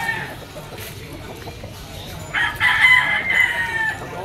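A golden bull stag gamecock crows once in the second half, a loud drawn-out call rising over a quiet outdoor background.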